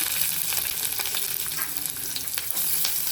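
Finely chopped garlic and onions fry in hot oil with mustard seeds and cumin in a pan, giving a steady, close sizzle with light crackles and stirring scrapes throughout and no talking.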